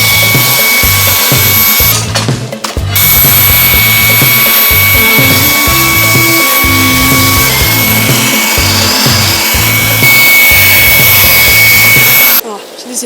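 A Ryobi 18V ONE+ cordless stick vacuum runs loud and close with a steady whirring motor that cuts out and restarts in short bursts, with a person talking over it.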